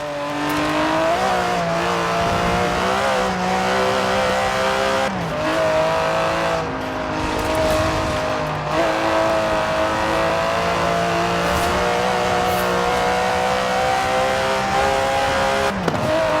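An Aston Martin DB11's 5.2-litre twin-turbo V12 in Forza Horizon 4 revs and pulls hard through repeated gear changes, loud and continuous, with brief dips between shifts and faint tire squeal.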